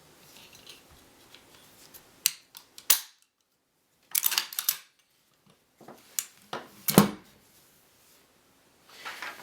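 Safety selector on a CZ vz. 58 semi-automatic rifle chambered in 7.62 Soviet being turned to fire, giving several sharp, close metallic clicks and clacks in short bursts separated by quiet gaps.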